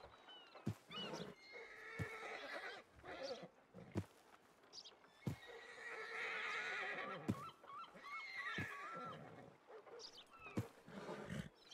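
A horse neighs repeatedly in an open-world ranch role-play game, several loud drawn-out whinnies and snorts near the listener, with brief clopping and other animal sounds between them and no speech over it.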